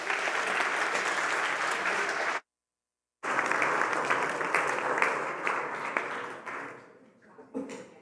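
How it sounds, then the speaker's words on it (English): Conference audience applauding at a Bitcoin event, a steady dense clapping that cuts out briefly, resumes and then thins toward the end. "One more round of applause for CJ making real-world Bitcoin application"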